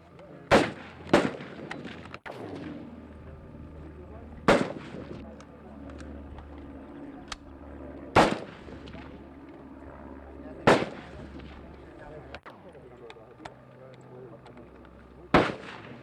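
Firearms fired by Cuban exiles in training: six sharp, loud gunshots at irregular intervals, separated by a low background hum with faint voices.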